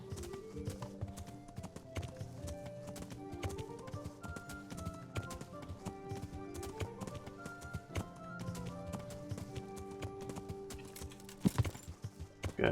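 Steady clip-clop of horse hooves on a road in the medieval game Kingdom Come Deliverance, a continuous rhythmic trotting at moderate volume heard alone throughout.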